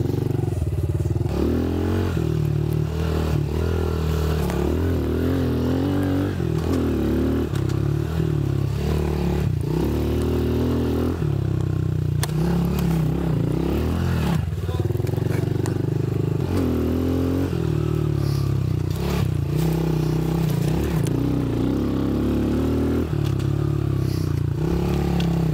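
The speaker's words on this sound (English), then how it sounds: "We've come over to the little pit bike track here with a few berms and some turns, and I'm gonna have a first session on this." A new pit bike rides a small dirt track with berms and turns, its engine buzzing loudly and continuously with repeated revs and throttle swells as it rounds the corners.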